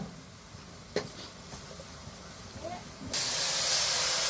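Kasuri methi (dried fenugreek) drops into hot oil and bursts into a loud, sustained hiss and sizzle that follows a quieter kitchen background.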